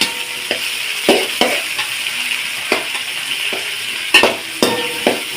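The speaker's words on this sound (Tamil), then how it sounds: "தக்காளியை போட்டு கிண்டிகிட்டே இருக்கணும்" Tomatoes stirred in a frying pan for a spicy fish curry, a steady close sizzle broken by repeated scraping and clattering strokes of a spoon against the pan, with no talking.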